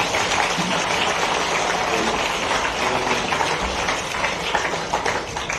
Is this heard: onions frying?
no